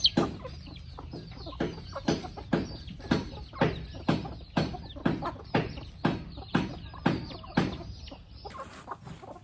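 Thai native chickens cluck in a steady rhythmic series of sharp, close calls, roughly one every half second, with soft farmyard background.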